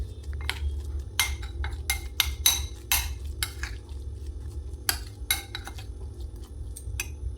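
A spoon stirs spices into a mung dal filling in a metal bowl, giving a quick run of sharp clinks and scrapes that thin out into sparse taps, close and clear with no talk.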